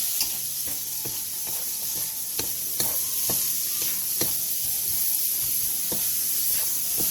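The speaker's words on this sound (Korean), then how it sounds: "팬에 기름을 두른 뒤 절인 무와 다진 마늘 반 스푼, 고춧가루 반 스푼을 넣고 센 불에서 볶아주세요." Salted radish, minced garlic and chili powder stir-fried over high heat in an oiled pan hiss steadily up close, with repeated sharp clicks and scrapes of a utensil against the pan throughout and no talking.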